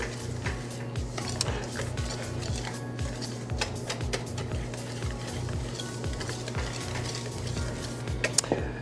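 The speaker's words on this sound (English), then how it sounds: "We're going to go ahead and mix our dry ingredients together." Dry baking ingredients are whisked together in a bowl, producing a steady rapid rhythmic scraping and tapping against the bowl throughout, close and fairly quiet with no talking.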